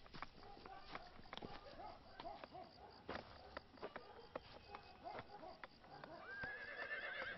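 A horse neighs and its hooves clip-clop in a film adventure scene, with sharp hoof knocks and whinny bursts spread through the clip, over a busy background with some voices.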